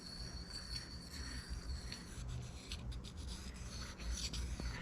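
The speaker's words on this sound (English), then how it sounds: "Still rotating the piece counterclockwise and going in a figure-8 direction." A carbide piece is lapped on a flat plate in a figure-8 motion, giving a continuous soft gritty rubbing with a steady rhythm, quiet and close, with no voices.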